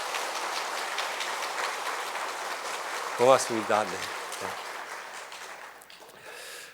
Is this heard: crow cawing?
no